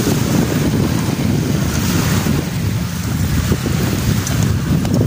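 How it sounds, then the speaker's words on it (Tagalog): Strong wind buffets the microphone in a steady, loud roar, with surf-like rushing underneath and no clear voices. "Masyadong mahangin dito"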